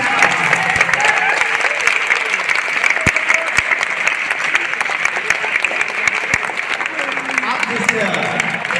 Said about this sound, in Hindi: आधा मिनट में कम से कम तालियां बजा दीजिएगा